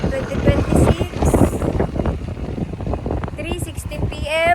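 Strong outdoor wind buffeting the microphone, a constant rough low rumble with gusty surges, while people talk over it throughout.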